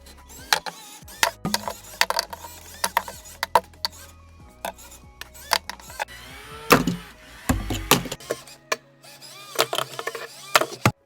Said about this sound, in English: after the first hit, it looks like we lost a piece of the wrecking ball